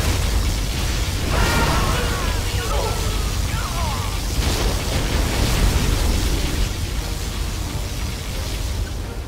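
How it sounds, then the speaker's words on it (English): Loud sci-fi particle cannon blasts and bursts over a dense rumbling battle din in the strategy game C&C Generals Shockwave, with electronic sweeps and synthetic weapon effects layered throughout. "Particle cannon activated."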